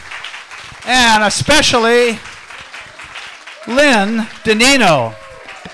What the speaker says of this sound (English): How about a round of applause for all the people that came up here?